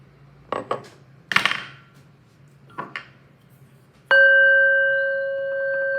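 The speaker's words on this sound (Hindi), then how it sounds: "आपके कार्ड्स नीचे गिर रहे हैं।" Tarot cards drop and slap onto a surface in a few brief bursts, then a bright metallic ring sounds and lingers with a slowly fading tone.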